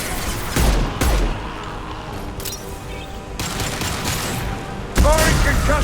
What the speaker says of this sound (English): Firing concussive shot!